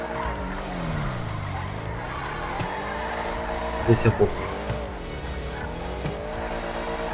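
Car drifting in GTA 5, a steady engine drone with pitch sweeps and brief tire squeals around the middle, all under near, continuous talk from a player.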